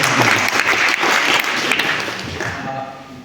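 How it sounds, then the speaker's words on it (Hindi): An audience at a talk on the Forest Rights Act breaks into loud, dense applause that holds strong for a few seconds, then slowly thins and fades. "तो जोरदार ताली"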